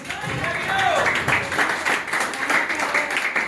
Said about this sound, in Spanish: Denme el aplauso al Señor.